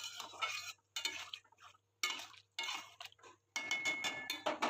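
Bhola river fish with potatoes being stirred and fried in a pan, a spoon scraping in bursts of several seconds separated by short pauses, with a soft sizzle beneath, close and fairly quiet.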